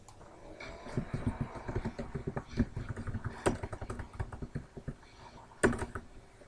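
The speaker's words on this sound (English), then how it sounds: "I'm typing on Twitter." Keys on a computer keyboard tapped in quick, uneven bursts, close and fairly quiet, with a faint low hum underneath.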